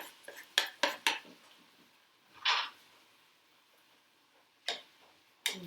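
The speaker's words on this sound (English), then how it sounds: "Give those a nice stir" Mushrooms and lentils stirred in a pan, heard as a few sharp utensil clinks and scrapes against the pan, a quick cluster at first and then isolated knocks spread apart, close but quiet.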